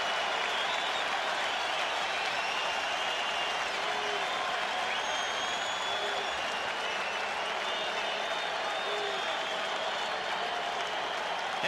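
Crowd at Fenway Park during a World Series baseball game, Red Sox hosting the Mets, roars and applauds continuously in a dense, steady wall of noise from a large stadium audience.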